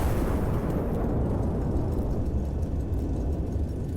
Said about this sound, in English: Fire mission confirmed, shell type armor piercing confirmed, bearing 2745 confirmed, elevation 3942 confirmed, gun ready, lock it in, fire.